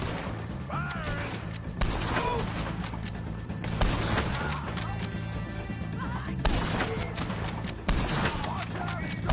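Rapid gunfire from a Red Dead Redemption 2 shootout with O'Driscoll gang members: repeated sharp shots and bursts crack over a steady backdrop of game sound, with voices shouting beneath the barrage.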